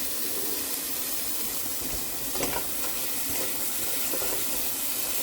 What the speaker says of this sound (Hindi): मैं 3 कप भरकर पानी के और 1 आधा कप डालूंगी